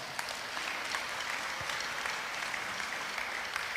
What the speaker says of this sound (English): Let's give our fans and parents a round of applause